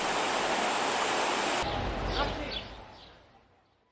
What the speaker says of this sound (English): And then the water goes down there and down the river.